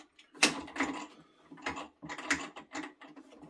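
An adjustable rifle stock is worked through its length settings, giving a series of close, crisp mechanical clicks and ratcheting snaps in irregular bursts.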